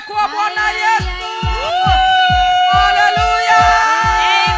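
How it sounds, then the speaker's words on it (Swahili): A church congregation at a live service cheers and ululates loudly, with wavering high trills and whoops over a steady beat of low drum thumps. "Shangwe na vigelegele kwa Bwana Yesu."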